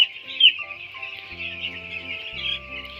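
Broiler chickens on a poultry farm cluck and peep close by, with soft chirps over a low steady hum.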